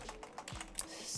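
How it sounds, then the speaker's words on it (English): Keys clatter on a slightly askew computer keyboard, a quick run of soft, close clicks in an irregular rhythm, quiet overall with no talking. "I can't type because my keyboard's askew."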